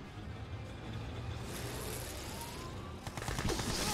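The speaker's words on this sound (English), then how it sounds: "Gatling cannons start opening fire" Gatling cannons open fire during a Mental Omega real-time strategy match, giving rapid, rattling bursts of gunfire amid busy battle sounds that grow denser toward the end.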